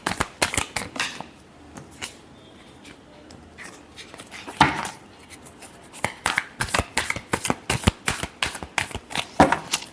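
Tarot cards being shuffled by hand in a love reading, with a close run of crisp riffling flicks and slaps that pauses briefly, then returns in quick rhythmic bursts, with no talk.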